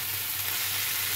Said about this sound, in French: Et maintenant, on va rajouter le beurre dedans.